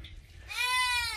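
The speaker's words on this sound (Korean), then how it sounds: "염소들이 엄청 울어대요." A goat on an African village farm lets out a loud, drawn-out bleat close by, rising over low background rumble and continuing to the end.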